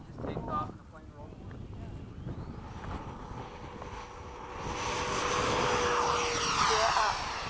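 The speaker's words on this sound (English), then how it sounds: "take off and the plane rolls." A Hobby King Avios 90mm MiG-17 RC jet takes off at a flying field, its ducted-fan whine building from a low hum to a loud rushing roar, with wind buffeting the microphone and voices nearby.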